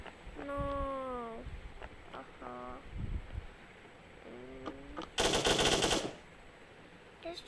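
A gun fires in a mobile cops-and-robbers shooter, one short rapid burst of shots in the middle of quieter game sounds, with brief tonal effects and some speech around it.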